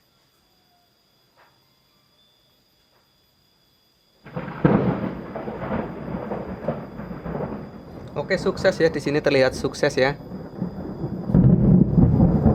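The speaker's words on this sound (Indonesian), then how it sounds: "Ada petir guys, besar sekali." Loud thunder rumbling in after a near-silent start, a sustained low roar that builds and swells toward the end, with someone talking over it.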